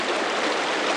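Rushing water of a cold mountain stream on the Cline River hike, a loud, continuous close-up babble with no pauses, heard by someone about to wade across in sandals.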